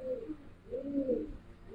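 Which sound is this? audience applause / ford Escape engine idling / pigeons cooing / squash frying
pigeons cooing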